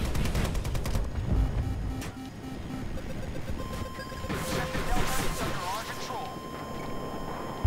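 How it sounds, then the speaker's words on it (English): Light machine gun fire in the video game Battlefield 2042, rapid bursts of shots early on, then scattered crashes and game effects, with a player talking over the action. "I've got an LMG and I'm just shooting out at them."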